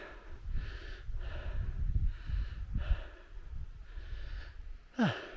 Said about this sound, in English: Sorry for all the puffing and panting